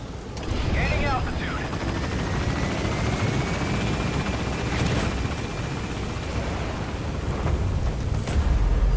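A helicopter lifts off in the video game Metal Gear Solid V, its rotor roar building steadily under a player's talk, with brief booming blasts mixed in.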